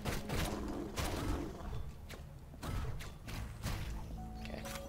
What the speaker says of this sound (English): the explosions